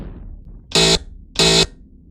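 A British Rail Class 153 train's driver-to-guard buzzer sounds two loud, harsh electronic buzzes, each lasting about a quarter second, separated by a short pause in a quiet setting.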